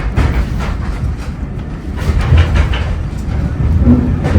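An old steam train on the Severn Valley Railway rolls past with a loud, close rumble and rhythmic clickety-clack of wheels on the track, with no talking.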